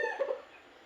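Backyard chickens cluck in a short, close burst of several calls at feeding time, then fade into quiet.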